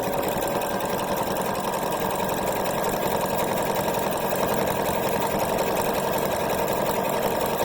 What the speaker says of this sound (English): so you can really see what this machine is doing